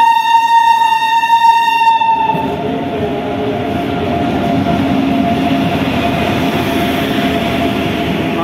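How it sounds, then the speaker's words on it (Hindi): A passenger train arrives at a station in Patna, sounding a long loud horn blast at first, then rumbling and clattering steadily on the rails as it pulls in close by. "ट्रेन आ चुकी है"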